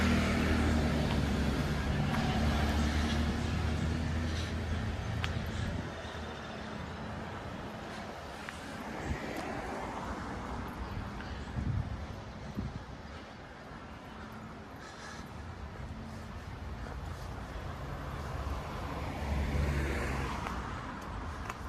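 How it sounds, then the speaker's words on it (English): Steady road traffic on a San Francisco street, with cars rolling past one after another. It is a continuous moderate rumble with no talking. "So I can see mostly Japanese cars"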